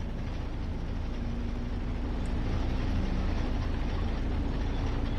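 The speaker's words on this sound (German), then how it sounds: "Start the motor." A tank engine rumbles steadily at idle in a World War II video game, a dense, loud, continuous low mechanical drone with a faint whine running through it and no voices.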